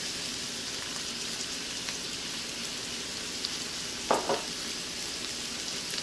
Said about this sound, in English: we're just going to let this saute briefly till they start to soften up a little bit